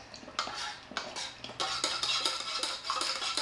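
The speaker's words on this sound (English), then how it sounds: "Stir it." A utensil stirs coconut milk and turmeric batter in a bowl, giving close, repeated clinking and scraping strokes against the bowl in quick bursts.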